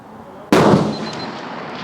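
A single loud, sharp shot from a Swiss Martini Jagdstutzer rifle fired at a 300 m range cracks suddenly and close, then trails off in a long echoing decay.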